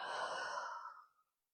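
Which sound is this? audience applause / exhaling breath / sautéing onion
exhaling breath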